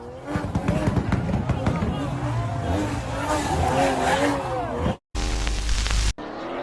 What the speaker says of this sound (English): You drift with the Supra and everyone will follow.